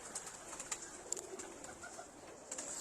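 Jugnu breed pigeons coo softly in a quiet loft, with faint, scattered calls and light chirps against a low background hum.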